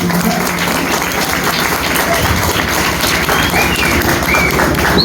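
Audience clapping at an award ceremony for children of a temple percussion school in Kerala: dense, steady applause that fills the whole stretch without a break, loud and close.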